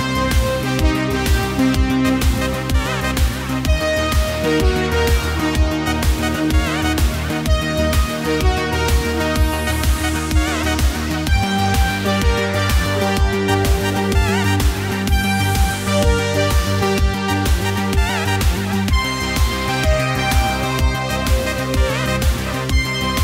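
Electronic synthesizer music, a modulated synth lead over a steady pulsing bass and rhythm, dense and loud throughout with sweeping tonal shifts and no voices.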